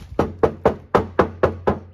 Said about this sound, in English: if you hit the door, it's like super tinny